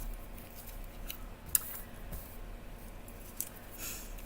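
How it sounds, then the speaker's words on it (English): Scissors trim paper close to printed flowers for a papercraft piece, producing faint, soft snips and rustles with a couple of sharper clicks in a quiet room. "So I'm going to trim this pretty close to the flowers"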